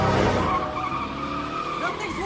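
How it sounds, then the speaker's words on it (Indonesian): In a film scene, a car accelerates hard and skids, with a loud, close tire squeal and strained engine tone sliding in pitch throughout. "Asep menginjak gas sehingga membuat mobil itu melaju sangat kencang."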